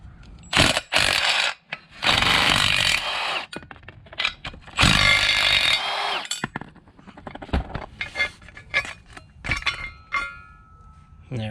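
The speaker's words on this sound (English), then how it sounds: "I'm going to go ahead and unscrew these and get this on." Metal tools and bolts clink and clatter while motor mount bolts are unscrewed during a Prothane billet motor and transmission mount install on a supercharged 6R80 vehicle, in irregular close bursts with brief pauses.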